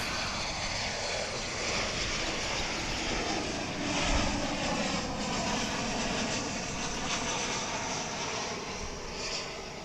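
A fixed-wing airliner arriving from Austin at DFW International Airport, its loud jet engine roar holding steady and swelling slightly as it passes, with no talk over it.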